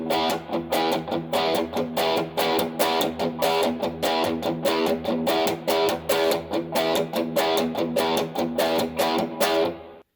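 Electric guitar strummed with a palm-muting pattern that alternates muted and open chords, producing a steady, driving rhythm of choppy chord hits for about ten seconds, with no talking over it.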